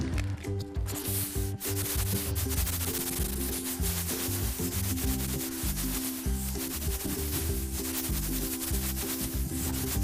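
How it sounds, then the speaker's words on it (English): Sandpaper is rubbed back and forth on an interior wall by hand, producing a continuous close, loud scratchy rasp with a steady stroking rhythm and no talk. "I can tell as I'm rubbing down, but again, you can hear it, but it feels a lot smoother than it was."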